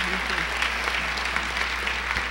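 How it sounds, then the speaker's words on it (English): Short burst of steady crowd applause for newly installed officers and directors at a banquet hall ceremony, many hands clapping evenly over a low constant hum. "give them a resounding round of applause"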